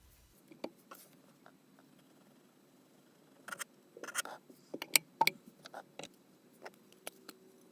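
A knife slicing a sandwich bun in half beside a small 6-inch mini skillet, heard as quiet, scattered crisp cuts and scratchy crumb noises, a sharper snap in the middle, against a near-silent background.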